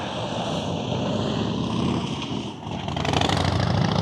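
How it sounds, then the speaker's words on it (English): A loud motorbike engine drones close by, roaring steadily and swelling louder as it passes. "Loud motorbike."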